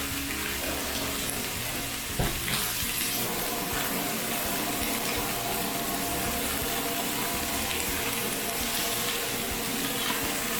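Tap water runs in a steady, continuous stream over food held under a light drizzle at a kitchen sink, sounding close and fairly even for the whole stretch, with no talking.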